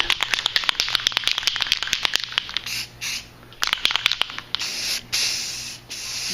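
Black Knight Metallic paint goes onto a Magneto cosplay helmet in a light tack coat, with rapid rattling and clicking from the spray can and several short, close bursts of hissing spray separated by pauses.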